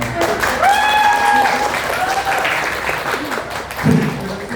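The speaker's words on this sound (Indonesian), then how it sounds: "tepuk tangannya dong" Applause from a meet-and-greet crowd for the Tim Ciremai team, a loud wash of clapping with cheering voices and a held vocal tone rising over it early, then a brief louder burst near the end.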